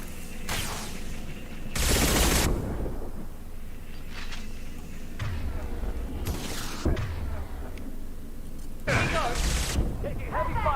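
Gunfire in Mass Effect 2 comes in several sharp bursts over a busy combat soundscape, loud and close with gaps between volleys, and game voices can be heard calling out amid the fighting.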